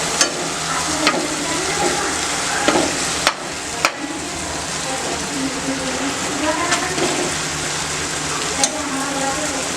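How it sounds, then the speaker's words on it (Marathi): Stuffed pomfret preparation sautéing in a pan gives a continuous sizzle of frying with scraping stirs and occasional utensil clinks, close and steady throughout. "थोडंसं परतून घेऊ"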